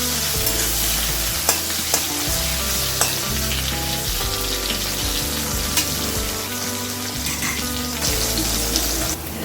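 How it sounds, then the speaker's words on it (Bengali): Sliced bitter gourd frying in oil with turmeric and salt, a steady dense sizzle with occasional sharp pops and stirring scrapes throughout, no voices. "এখন আমি করলাগুলোকে ভালো করে ভেজে দিই।"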